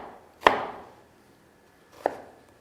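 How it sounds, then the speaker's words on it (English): Two sharp knife chops through an onion on a cutting board, spaced well apart, the first louder with a brief ring, the second softer, in a quiet room. "So I'm going through that same process with the onion, cut most of the way through"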